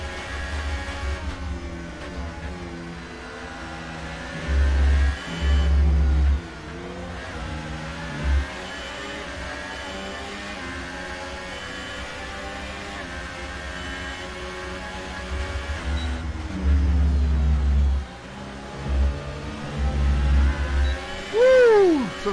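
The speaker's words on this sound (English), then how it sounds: "So the cars are fighting out here, single file." F1 race cars from the F1 2018 video game at the Austrian Grand Prix, with engines revving, whining and rising in pitch as they accelerate and pass, loud and continuous, with a few louder surges of engine roar.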